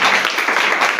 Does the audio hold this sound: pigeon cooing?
no